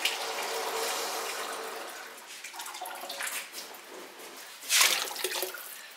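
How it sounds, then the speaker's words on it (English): Water pours from a jug into a batch of pottery glaze, a steady splashing rush that fades and then returns in a brief louder gush near the end, with no voices over it. "Here's a jug of water. We'll add that"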